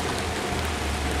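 Steady heavy rain pouring down outdoors at a bridge collapse rescue scene by a river, a dense continuous hiss with no voices, close and loud throughout.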